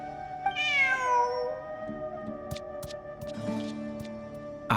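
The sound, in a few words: cat meowing in the video game Genshin Impact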